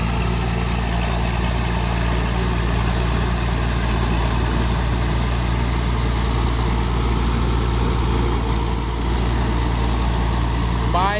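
A P11C rotary tiller's engine works a previously ploughed rice paddy with a loud, steady, low-pitched drone that holds unbroken for over ten seconds, close by and dominating the scene.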